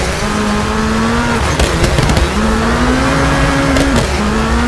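Rally car engine in WRC 4 tightening through a hairpin with a handbrake turn: steady revving drone with pitch dips as it slows and turns, plus squealing tyre skids in the middle, loud and continuous, no talk.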